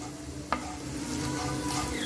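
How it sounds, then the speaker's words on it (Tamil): Asafoetida frying in hot oil gives a steady close sizzle with a brief stir or scrape near the start while a homemade sambar powder is prepared. "அதையும் நல்லா பொரிச்சு எடுத்துருங்க எண்ணெயில்"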